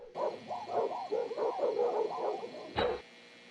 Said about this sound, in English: That was one big dog.